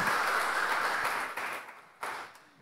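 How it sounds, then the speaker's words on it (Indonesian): A crowd applauding steadily, dense clapping that gradually fades, then a brief renewed swell near the end. "Boleh dong tepuk tangannya lagi yang meriah."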